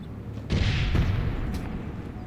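A grenade goes off in the online shooter APB: Reloaded. A sharp, loud boom lands about half a second in, followed by a rumbling blast that lingers and slowly fades, with a second smaller thump near the end.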